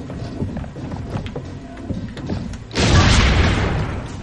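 Cannon fire in the video game Assassin's Creed Brotherhood: a single loud, deep boom bursts in near the end and rolls on as a sustained rumble, after quieter thumps and game noise.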